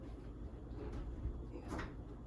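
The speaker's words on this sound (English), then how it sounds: "Push the bottom of that drawer," Kitchen drawer pushed shut during a budget kitchen makeover, a soft wooden bump and brief slide heard over steady low background rumble, fairly quiet with no talk.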